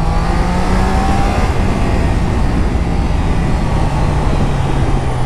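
A Triumph Daytona 660 motorcycle with a 95 PS engine is accelerating. Its loud, continuous engine drone is mixed with rushing wind and holds steady for about five seconds.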